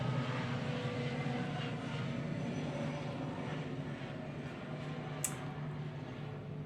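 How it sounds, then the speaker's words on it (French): A helicopter passes at a distance, giving a steady low engine drone with a faint rhythmic rotor beat that fades slightly as it moves on, with no voices. "il y a un hélicoptère qui passe. Je vais attendre que l'hélicoptère passe."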